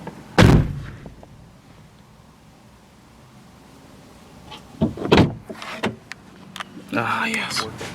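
A second-generation Hyundai Tiburon car door clunks shut and is worked again, with a sharp slam near the start, then several more latch clicks and thumps later. Quiet talk murmurs between them.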